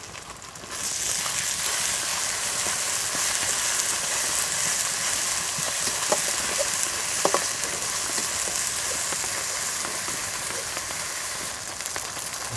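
Green chillies, onion, garlic and spices fry together in oil for a masoor dal khichuri, producing a loud, continuous hissing sizzle that starts abruptly and holds steady, with a few light stirring clicks.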